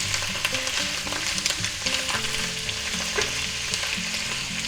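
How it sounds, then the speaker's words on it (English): Mushrooms sauté in a hot pan, giving a steady close bright sizzle with crackling pops, under a faint low-pitched background tone. "We'll saute them up good."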